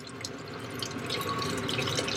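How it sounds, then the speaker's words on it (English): Boiling water is poured from a kettle into a cooking pot in a home kitchen, a steady continuous splashing and trickling stream that swells slightly as the pour goes on, close and alone. "I've just got some boiling water from the kettle that I'm gonna pour in"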